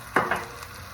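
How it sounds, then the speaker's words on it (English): Chicken is set into hot oil with turmeric and starts frying, giving two quick loud sizzling bursts that then settle into a soft crackle, close up, with no voices. "We're going to put it in this oil to fry, okay?"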